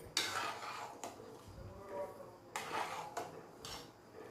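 A spoon stirs sugar into Bengali rice pudding (payesh) in a pot, giving irregular scraping clinks and soft knocks of metal against the pot, close and moderately quiet with faint room noise.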